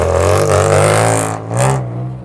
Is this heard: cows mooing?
no